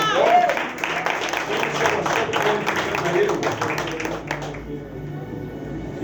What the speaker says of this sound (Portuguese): Você pode aplaudir a Jesus mais uma vez?